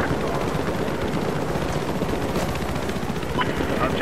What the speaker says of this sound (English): Here, I'm spawning in the helicopter.